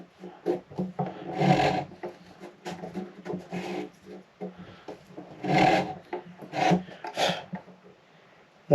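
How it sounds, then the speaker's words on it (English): Sandpaper rubbing down the wooden neck heel of a Martin D-45 Authentic guitar during a neck reset, heard as repeated raspy strokes in bursts of varying length, close and fairly loud with short pauses between passes. "then what I do is just sand right down the heel right here"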